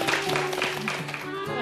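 Studio audience applause on a Korean TV variety show, a dense wash of clapping running throughout with music and voices mixed underneath.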